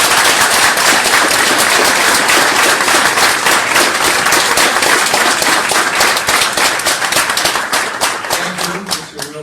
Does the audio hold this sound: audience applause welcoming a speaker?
yes